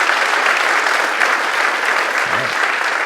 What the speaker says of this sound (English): quick round of applause for everybody this morning.